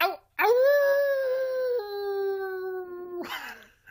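A voice imitates a coyote pack howl: one long, loud, wavering howl up close that slides down in pitch and ends in a brief yelp.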